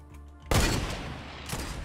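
Gunfire in a Fortnite duos match bursts in loud and close after a short lull, a dense crackling volley that keeps rattling, then a second burst of shots lands near the end.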